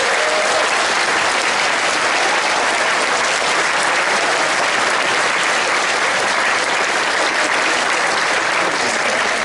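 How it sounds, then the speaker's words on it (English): A large convention crowd at a furry convention's opening ceremony applauds the staff and crew, a dense, loud and continuous roar of clapping that stays level from start to finish. "So round of applause for the staff,"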